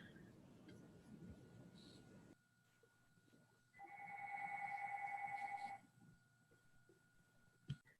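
A phone rings once, a sustained electronic trill lasting about two seconds in a quiet room with low background hum, followed by a brief click.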